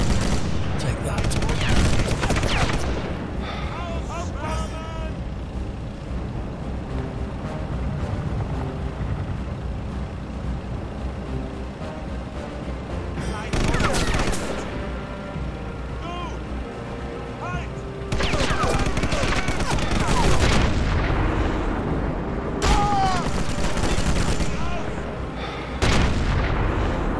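Gunshots in the Sniper Elite video game, loud booming rifle and artillery-like blasts in several separate clusters, each with a long ringing tail, a speaking voice heard between them.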